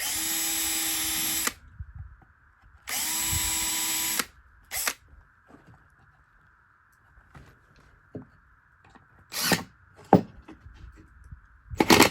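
A power drill driving screws whirs in two long bursts and a short one, with quieter pauses between and a few clicks and knocks of handling near the end.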